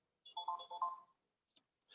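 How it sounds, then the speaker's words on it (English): A phone's ringtone chimes twice in quick repeated bursts during an agriculture investment webinar, then cuts off into near silence with a faint click. "sorry, my phone's going"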